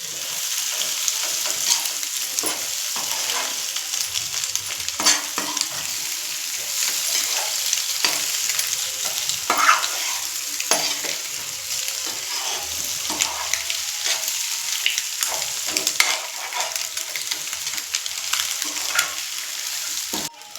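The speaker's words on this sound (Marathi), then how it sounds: "फोडी केलेली अंडी टाकून घेऊ. आणि छान पुन्हा एकदा परतून घ्यायचं." Beaten eggs sautéing in a pan of egg masala, a constant crackling sizzle with frequent spatula scrapes and taps as the mixture is stirred.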